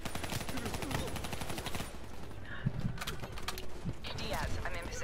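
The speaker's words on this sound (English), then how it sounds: "Oh, they're shooting at us!" Enemy gunfire in a Call of Duty campaign battle: rapid bursts of shots and automatic fire crackling close by, mixed with excited voices talking and shouting over the shooting.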